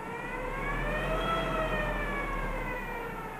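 A BMW converted to electric drive whines steadily as the throttle is pressed and the motor climbs to high RPM with Odyssey batteries, giving a continuous rising-and-falling tonal hum with no talk over it.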